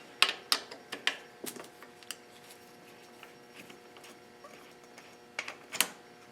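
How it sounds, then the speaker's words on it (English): Bicycle handlebar binder bolt being loosened with a tool during headset disassembly, giving sharp metallic clicks and ratchet-like ticks in small clusters, close and fairly loud, with quieter gaps between bursts. "I'm going to loosen up this binder bolt right here."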